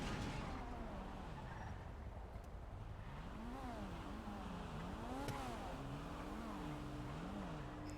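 A car in a GTA roleplay video game drives and pulls in to park, its engine note rising and falling in repeated waves over a steady rushing background, moderately distant.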